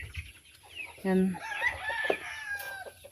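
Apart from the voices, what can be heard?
pet chickens crowing and clucking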